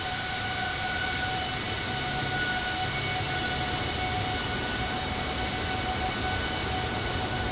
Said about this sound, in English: This aircraft may possibly have the best engine sounds.